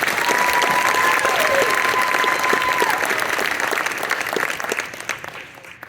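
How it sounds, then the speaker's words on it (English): A crowd applauds loudly during closing remarks after a 2023 high school production of the musical Descendants: sustained, full-room clapping that stays strong for most of the stretch, then thins near the end, with a faint tone audible early on. "So another round of applause for Maddie."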